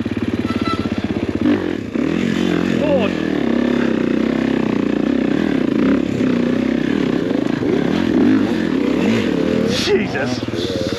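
A Kawasaki KX motocross bike rides enduro terrain, its two-stroke engine buzzing loud and close and rising and falling with the throttle, with rattling and scraping from the rough ground throughout.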